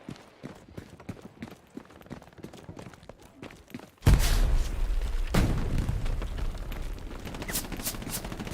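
Quiet, rhythmic footsteps in the Hell Let Loose video game give way to a sudden loud burst of gunfire, followed by booming shots and sharp cracks over a dense battle din.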